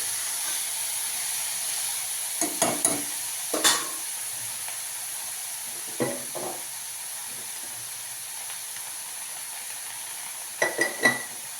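Ridge gourd peel sautéing in a pan for chutney gives a steady, low sizzle throughout, broken by a few brief scraping stirs of a spoon against the pan.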